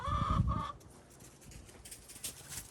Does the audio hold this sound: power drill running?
no